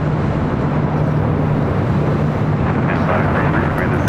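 A Boeing 747-400 ER freighter arriving at LAX from Anchorage gives a loud, continuous broadband jet roar that holds steady throughout, with faint talk in the background.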